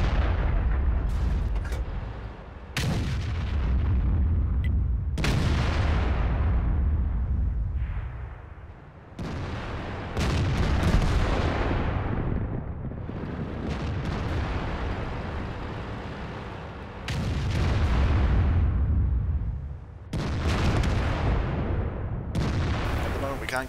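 Heavy tank cannon blasts in World of Tanks, a series of deep booming shots spaced a few seconds apart, each with a long rumbling decay, loud and close with no talking.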